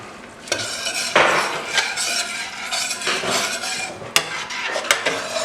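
A spoon stirs sweetener into a pan of chicken dhansak curry, giving a run of soft scraping and clinking strokes. One sharper knock comes near the end, and there is no talking.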